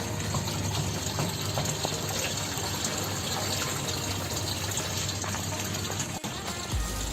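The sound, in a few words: pouring hydroponic nutrient solution into a water tank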